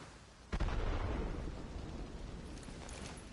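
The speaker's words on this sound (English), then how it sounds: "Huh? Thunder?" A deep thunder-like boom rolls out in Arknights: Endfield, starting abruptly and decaying into a long low rumble that lingers under faint background ambience, with no voices.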